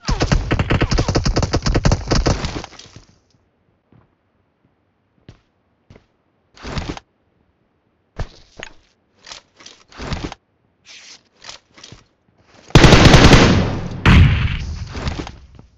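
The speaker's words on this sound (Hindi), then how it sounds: "फायरिंग स्टार्ट कर देता है।" Video game gunfire: a long loud burst up front, then scattered single shots and short volleys with quiet gaps between, ending in another heavy sustained burst.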